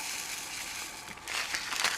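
Diamond painting drills pour into a 3D printed tray with a brief rattling, crunchy patter of tiny resin pieces, heard up close with no speech.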